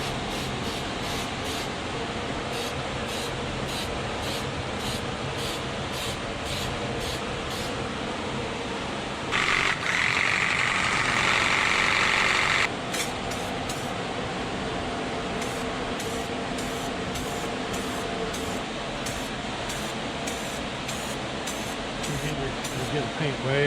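A paint spray gun hisses onto a Ford hood being refinished over paint bubbles, a loud steady spray lasting a few seconds amid a long stretch of background noise and faint rhythmic clicks.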